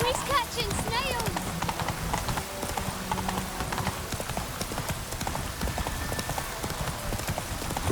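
A horse gallops in The Witcher 3 video game, with rapid rhythmic clip-clop hoofbeats running steadily from start to finish and a brief whinny near the beginning, while someone talks over it.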